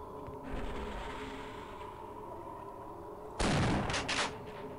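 A shotgun blast from the Half-Life: Opposing Force video game erupts late, one loud burst with a short ringing tail, over a steady droning game ambience.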